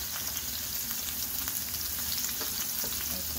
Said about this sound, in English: The garlic goes in. Tomato. Let it cook a little bit because they are hot.